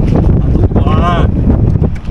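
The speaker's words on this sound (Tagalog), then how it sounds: "Medyo mahangin." Wind gusts across the microphone at a seashore while people set up to fish, a steady low rumble filling the short stretch with a brief tonal whistle in the middle.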